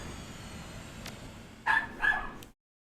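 A pet dog indoors gives two quick, fairly close barks, one right after the other, against a quiet room, then silence.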